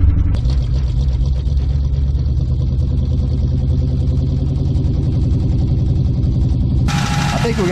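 A 1959 Dodge car engine idles and runs steadily, a continuous low rumble with rhythmic clatter close by, rising briefly near the end as it revs.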